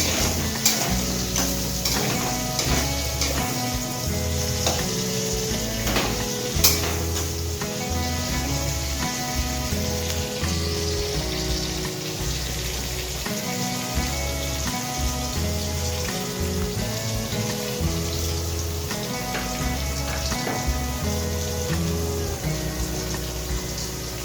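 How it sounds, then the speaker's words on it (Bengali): Potatoes fry with chicken masala in a pan in a home kitchen, a steady sizzle running under background music throughout. "আর এখানে চিকেনের মশলা আলুটা ভাজা হচ্ছে।"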